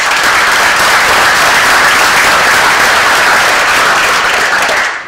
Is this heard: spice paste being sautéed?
no